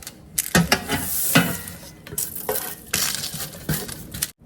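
Roasted vegetables tipped into a pan of hot macadamia nut oil, giving sizzling and clattering stirring scrapes in a few bursts, close up with no talking.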